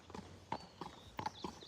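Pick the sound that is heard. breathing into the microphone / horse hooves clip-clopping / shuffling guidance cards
horse hooves clip-clopping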